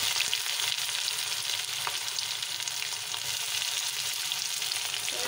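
Onion frying in hot oil with dry red chilies and whole spices, a steady loud sizzle with stirring scrapes running throughout, no voices.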